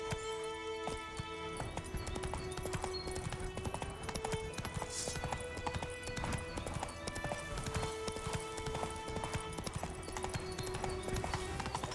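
A horse gallops in Witcher 3 with rapid, rhythmic hoofbeats in a steady clip-clop close by, over game music.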